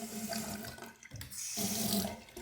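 Water runs steadily from a bathroom sink faucet in a newly built home for sale, a close, continuous splashing stream with a brief dip midway.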